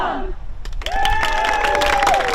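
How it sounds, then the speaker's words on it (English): Applause and cheering from a crowd at the groundbreaking of a motor neurone disease centre building named for Rob Burrow, swelling after a brief countdown voice and continuing steadily with some tonal sounds above the clapping. "The applause was heartfelt and still celebratory, despite the circumstances"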